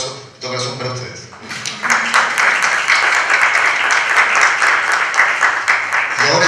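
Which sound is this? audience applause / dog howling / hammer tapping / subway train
audience applause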